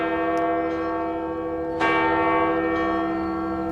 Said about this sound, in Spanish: dejen que pase estas campanadas